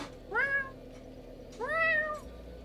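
A person imitates a cat with two drawn-out, rising and falling meows separated by a short pause, close and clear against a quiet background.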